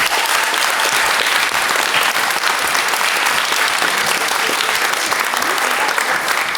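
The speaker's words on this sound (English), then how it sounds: "A huge round of applause," Sustained applause from an audience at a St Timothy's School production of Baker Street Irregulars, steady dense clapping filling the room for several seconds without a break.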